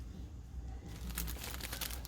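Crisp crinkling of a clear plastic bag starts partway through and continues steadily, close and fairly loud, with a low hum underneath.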